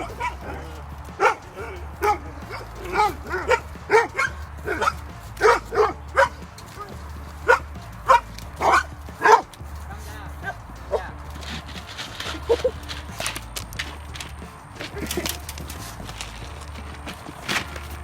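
Several neighborhood dogs bark and yip in short bursts across a long stretch, fairly close, with footsteps and shuffling around them.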